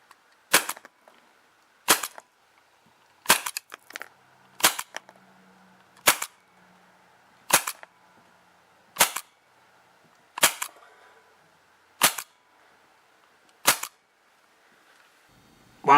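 An ASG CZ-75D Compact airsoft pistol fires eleven sharp, evenly spaced snapping shots about 1.5 seconds apart during a chronograph test, each crack loud and close against near silence.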